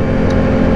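A Can-Am vehicle with a variomatic (CVT) transmission and an unlocked R-mode revs hard and accelerates, giving a loud, steady engine roar that holds for under a second.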